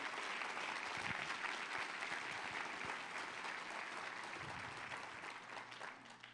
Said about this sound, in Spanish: Dar un fuerte aplauso al Señor, por favor.